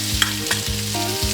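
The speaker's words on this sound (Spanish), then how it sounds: "en la misma sartén voy a freír el ají. Voy a poner la cebolla" Chili pepper and onion fry in a pan for Peruvian lomo saltado, a steady loud sizzle with stirring scrapes and clinks on top, no voices.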